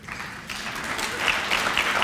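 Audience at a convention awards dinner breaks into applause, a dense patter of clapping that swells and holds steady, fairly close, with a few brighter individual claps standing out.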